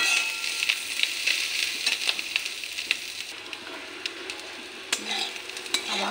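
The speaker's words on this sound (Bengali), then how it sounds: "এখন সব কিছু মিশিয়ে নিই।" Potato and eggplant sizzle steadily in a pan while a utensil stirs and scrapes through them, with small clinks throughout and no voices.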